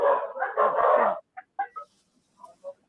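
A dog barks loudly several times, followed by a few short, softer yips and whimpers spaced out over the next moments, heard up close in an indoor room.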